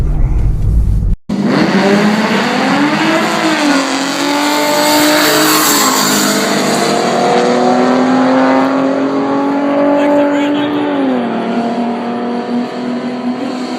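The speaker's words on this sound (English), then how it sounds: "pay attention to how fast his car gets off the line" An automatic Mustang with a 3.7 V6 launches hard off the line at a drag strip, its engine roaring loud and steady as it climbs through the gears with distinct shift dips, sustained for over ten seconds.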